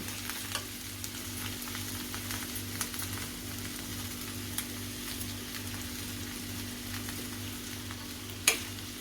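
Salt being stirred into a sizzling pan dish for a fasting-day meal with boiled potato, a continuous frying hiss with light spatula scrapes and a sharp tap near the end.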